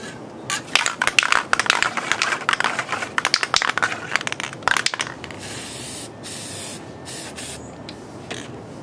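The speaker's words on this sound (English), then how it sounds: "I'm going to spray them with a clear acrylic spray." Clear acrylic spray hisses from an aerosol can onto plastic shrink-art earrings outdoors. The bursts are close and sputtering and run for about five seconds, then fade to a softer, steadier hiss.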